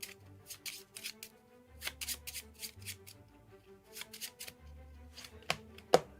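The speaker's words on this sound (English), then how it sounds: "So you give them a shuffle." A deck of playing cards is shuffled by hand at a close-up magic table. Quick riffling bursts and soft flicks repeat in irregular clusters, ending with a sharper snap of the cards.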